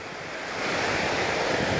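Ocean surf at Cocoa Beach, Florida near Port Canaveral rolls in as a broad, continuous wash, swelling louder midway, with wind buffeting the microphone and no voices.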